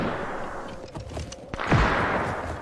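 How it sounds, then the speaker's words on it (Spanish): Musket volleys from the grenadier and Protestant infantry units of the strategy game 1648 Total War, a few sharp gunshot cracks bursting out over a steady bed of battlefield ambience, with the loudest report near the end. "Va muy bien ahí el disparo"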